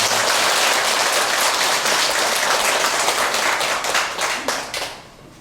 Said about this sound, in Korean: 모두 큰 박수로 스님을 환영해 주시기 바랍니다.